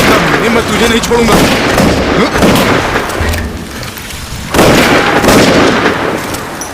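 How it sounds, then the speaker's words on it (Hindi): Gunfire in a Hindi-dubbed action movie shootout, loud bursts and booming shots scattered through a dense, noisy battle mix with shouting voices. "गोली चलाओ, ज्यादा करीब मत जाओ। गोली चलाओ।"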